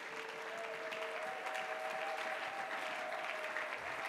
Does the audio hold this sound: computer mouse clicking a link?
no